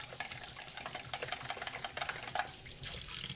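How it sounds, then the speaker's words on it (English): Running tap water rinses the spout of a juicer at a sink, a faint, uneven splashing and trickling close by that swells slightly near the end, with no voices. "That's all it takes, just to give a quick rinse"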